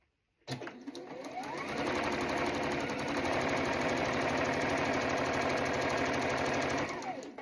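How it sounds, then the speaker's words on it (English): Sewing machine stitching a quilt seam a quarter inch from the line, running steadily and loud for about seven seconds with a fast, even mechanical hum and rattle, starting and stopping cleanly. "I'm going to sew all the way to the opposite corner, a 1/4 inch away"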